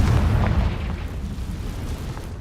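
A Confringo fire spell explodes in Hogwarts Legacy, a loud deep boom with crackling burst that starts strong and decays into a sustained rumbling tail, no voices over it.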